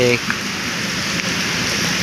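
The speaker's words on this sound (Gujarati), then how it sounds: "ડીસાથી નીકળી ગયા છીએ અને વરસાદ ચાલુ થઈ ગયો છે" Steady rain falls on a road trip in Gujarat, a continuous even hiss throughout, with a brief voice at the very start.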